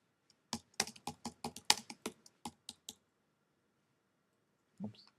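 Quick burst of about a dozen crisp keystrokes on a computer keyboard, close and clear, then a pause and one soft thump near the end; no voices.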